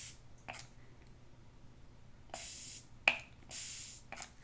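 A KVD Lock-It setting spray gives several short, close misting bursts, soft breathy hisses with brief pauses between them and one sharp click of the nozzle.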